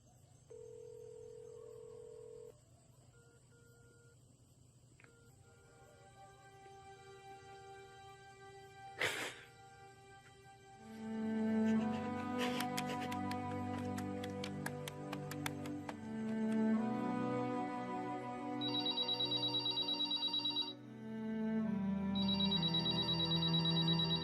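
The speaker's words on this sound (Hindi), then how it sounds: "मैं करता रहूंगा फोन जब तक तू वापस नहीं आ जाती प्रीत।" Telephone ringing over and over as a call is placed again and again, electronic ring tones repeating steadily in a quiet room and then shifting to a different ringtone pattern, with no voices.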